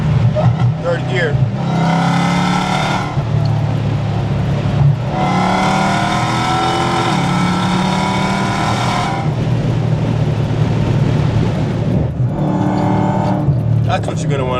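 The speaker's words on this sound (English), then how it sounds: "You want to put the windows down so you can hear this car scream." A Dodge Charger Hellcat sedan accelerates hard in third gear with the engine revving loudly and rising in pitch, heard from inside with the windows down, in several surging pulls broken by brief gear changes.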